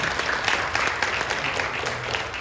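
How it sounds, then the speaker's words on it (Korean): Steady applause from a church congregation, many hands clapping together continuously and fairly loudly throughout. "박수를 격려해 주시오."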